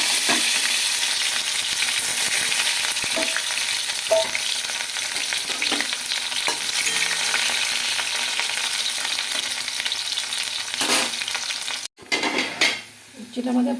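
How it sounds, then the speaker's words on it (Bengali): Bitter gourd frying in hot oil, a loud continuous sizzle with occasional spatula scrapes and clinks against the pan, close up, briefly dropping near the end. "প্রথমে আমরা উচ্ছেটাকে ভেজে নেব।"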